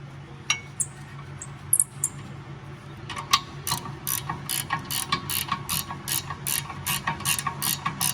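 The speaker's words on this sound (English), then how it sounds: "so you can torque this 35 foot-pounds" A ratcheting torque wrench tightens the rear brake bolts on a Scion xB 2.4, giving a steady run of sharp, close mechanical clicks after a quieter start, with no talking.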